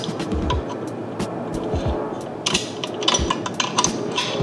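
Wrench clicks and metallic ratcheting while bolts are loosened during a seat install in a Porsche 997, with close, irregular bursts of clatter and tool noise in a garage.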